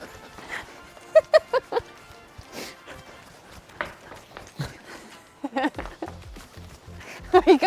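A worked-up dog scrambles and bursts out in short excited noises between quieter stretches, with scuffling movement nearby while people talk over it.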